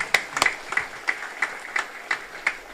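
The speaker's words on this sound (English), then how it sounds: "Another round of applause," Scattered applause at a Returning Warriors induction ceremony: a handful of separate claps land in a loose, steady rhythm, fairly faint and thin rather than a full crowd ovation.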